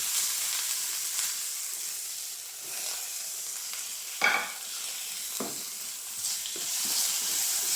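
Onions, green chilies and green and red capsicum fry in a pan for a chicken Manchurian curry, giving a steady soft sizzle with a few stirring scrapes and clatters, alone with no talk.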